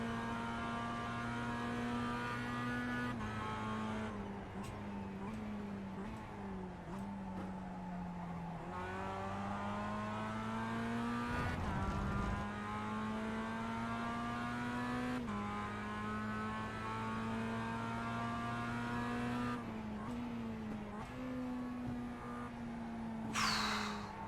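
Mazda MX-5 race car in the iRacing simulator, its engine droning steadily with pitch rising and falling through gear changes and revs, loud and continuous with no talk.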